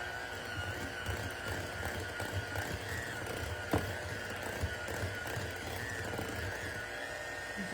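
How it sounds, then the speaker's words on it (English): A kitchen mixer blends cream cheese, yogurt, lemon juice and maple syrup for a no-bake dessert, giving a steady, continuous motor whir with a low hum that runs unbroken throughout, plus a faint tap near the middle. "let's see how I do with this mixer."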